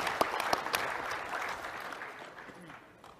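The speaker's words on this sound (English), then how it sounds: "I think that deserves a clap" A brief burst of applause from a small group, clapping fading out over a few seconds.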